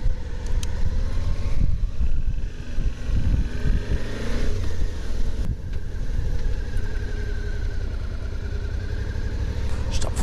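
Motorcycle pulling away on a hill start: a close engine rumble rising and dipping as the revs build and settle, then a steadier drone as the bike rolls off, with wind buffeting the microphone.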